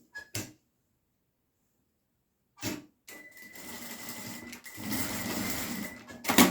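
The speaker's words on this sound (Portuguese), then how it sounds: "eu vou costurar bem aqui na lateral, depois da barra. Vou fazer uma costurinha." A sewing machine stitches the side seam of a surgical cap, opening with a couple of short clicks and needle thumps, then a pause before a rapid whirring run of stitches that pauses briefly and resumes, close and clear with no talking.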